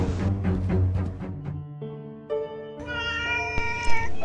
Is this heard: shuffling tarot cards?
no